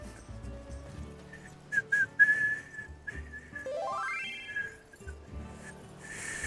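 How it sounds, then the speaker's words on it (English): Someone whistles a wavering melody with a quick rising glide midway, fairly clear over low murmuring game background sounds, during a Final Fantasy XIV session. "Can you guys hear me whistle?"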